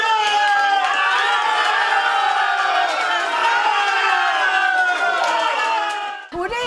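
A crowd in Črna na Koroškem cheers Tina Maze's ski run with loud, continuous shouting, whooping and roaring, a dense wall of voices that barely dips before fading at the end.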